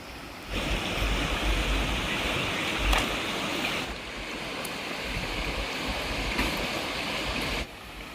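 Steady rain falls beside a river, a dense, continuous hiss of water that fills the air, dropping away briefly in places before resuming at the same level.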